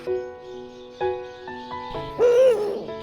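Eurasian eagle-owl mother at a rescue centre giving repeated deep hoots to her independent young, close and clear, with a longer, higher wavering call near the end.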